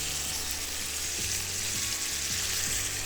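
Prawns sizzle and fry steadily in a hot pan, a loud continuous crackling hiss with faint scraping taps running through it, no voices.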